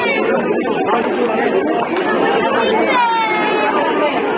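Crowd chatter in busy Sarojini Market in Delhi: a dense wash of many overlapping voices from shoppers all around, steady and loud without a break, with a nearby voice talking over it.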